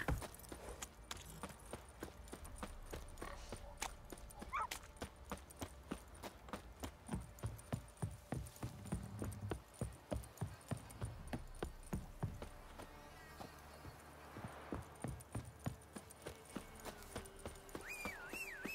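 Hoofbeats of a horse galloping in The Witcher 3, a steady run of clip-clop strikes that carries on for the whole stretch under a layer of game ambience, with a few jingling harness-like sounds.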